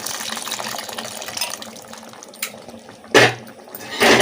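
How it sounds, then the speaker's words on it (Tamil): Dissolved tamarind water poured into a pot of toor dal and onion sambar, a close, steady liquid splash with brief louder gushes near the end. "புளி வந்து எலுமிச்சை சைஸ் புளி நம்ம கரைச்சி வச்சுருக்கோம் அதையும் இதில் சேர்த்துக்கோ"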